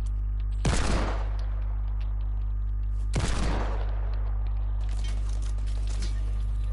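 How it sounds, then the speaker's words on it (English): Two loud, sharp gunshots ring out in Fortnite about two and a half seconds apart, each with a short decaying tail over a steady low background hum. "I don't know how I miss these shots."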